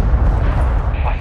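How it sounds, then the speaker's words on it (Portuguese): Heavy airstrike blasts in Call of Duty: Modern Warfare II multiplayer on the Zarqwa Hydroelectric map, a loud deep rumbling boom rolling on for about a second. "Solicitando ataque aéreo nessa posição."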